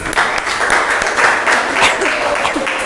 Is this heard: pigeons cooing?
no